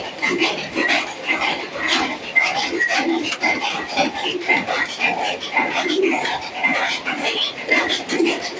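Teddy pigeons in a loft keep up a steady round of soft, throaty cooing, overlapping calls repeating close by against a busy murmuring background.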